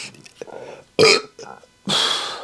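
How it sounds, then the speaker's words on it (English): A loud, drawn-out burp erupts close to the mic, followed by a second long belch after brief quiet mumbling. "told you guys I'd burp"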